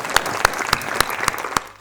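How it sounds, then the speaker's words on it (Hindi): An audience at a Hindi comic poetry show claps in a steady rhythmic beat, each clap sharp and crisp, about six evenly spaced claps within two seconds. "अगर समझ में आ गया हो तो तालियां बजाओ"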